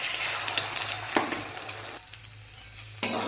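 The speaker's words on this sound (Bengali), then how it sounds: "আমি এবার ডিমটাকে ভেজে নিচ্ছি যেহেতু এগ চাউমিন বানাবো" An egg fries in a pan for egg chow mein, a loud, close crackling sizzle with a few sharp spatters and a brief dip in intensity.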